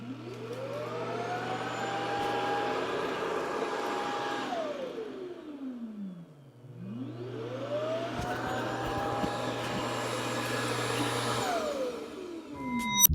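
An ECOVACS DEEBOT X11 robot vacuum station auto-empties its dust bin with a loud whirring suction motor that ramps up, drops away briefly mid-cycle, then whines up again and runs steadily until it stops.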